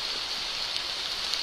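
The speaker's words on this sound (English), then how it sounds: "And the rain's having one last crack at us before we go." Steady rain falling in the Taman Negara jungle in Malaysia, a dense, even hiss that carries on without a break, with no voices over it.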